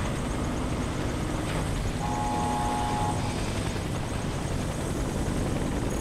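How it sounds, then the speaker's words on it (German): A helicopter in the video game Warface gives a steady, loud, continuous rotor and engine roar throughout, with no break. "Steige aus dem Hubschrauber aus."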